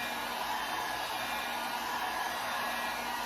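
A hair dryer blows steadily on a freshly stained wooden serving tray, a loud, unbroken whooshing roar held at constant level from start to finish.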